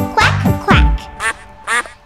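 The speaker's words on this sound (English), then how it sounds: "Little duck, quack, quack." A duck quacks in a children's nursery-rhyme dance song, four distinct, close quacks spaced at an uneven bouncy rhythm, the first two longer and the last two shorter and brighter.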